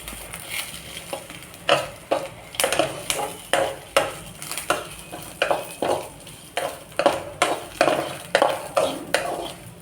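Raw ivy gourd pieces fry in a little oil while a spoon stirs and scrapes the pan in a steady rhythm of repeated clinks and scrapes over a constant sizzle, close up, no talk.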